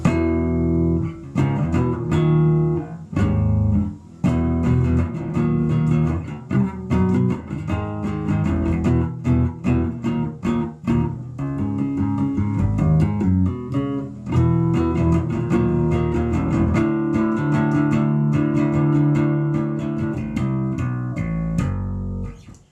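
Bass guitar rings out big sustained chords at a slowed-down tempo, each strum blooming and decaying in a heavy, grungy wash, played alone and up close for about twenty seconds.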